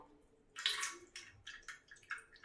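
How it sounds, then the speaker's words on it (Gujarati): Water drains through a strainer from boiled chillies, several short, quiet splashing pours and trickles coming in uneven bursts. "તો આને આપણે પાણીને ગાળી લઈએ"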